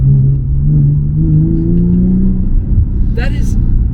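Nissan 350Z HR engine revved hard in second gear, a loud close-up throttle blip whose pitch climbs sharply then falls away, with a brief faint squeak near the end.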